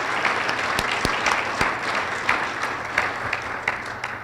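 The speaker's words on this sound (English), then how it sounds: "If we could give her a round of applause" A symposium audience at a luncheon gives a sustained round of applause, many hands clapping in a dense steady wash with a few sharper nearby claps standing out.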